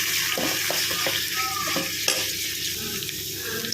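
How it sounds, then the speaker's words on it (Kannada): Chopped vegetables and curry leaves fry in a hot pan, a steady close sizzle broken by several scraping stirs of a spoon, with no one speaking. "ಎಲ್ಲ ಕಟ್ ಮಾಡಿರೋದನ್ನ ಇದಕ್ಕೆ ಹಾಕೋಣ. ಫ್ರೈ ಮಾಡ್ಕೊಳ್ಳೋಣ. ಕರ್ಬೇವಿನ ಸೊಪ್ಪು ಹಾಕ್ಕೊಳ್ಳೋಣ."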